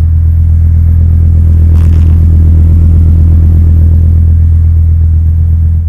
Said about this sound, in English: it's kind of a no name muffler, but it's stainless and it sounds really nice